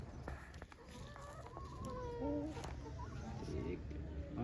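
An Aseel hen clucks in short harmonic calls among farm birds, with a rooster-like call mixed in and steady background noise; people talk faintly nearby.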